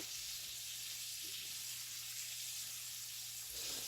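Pork chops browning in a frying pan over lowered heat give a steady, quiet sizzle with soft, even crackle throughout, no talking.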